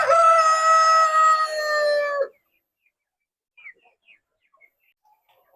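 A buff Brahma rooster on a forest farm lets out one long, loud crow lasting about two seconds, followed by near silence with a few faint distant clucks and chirps.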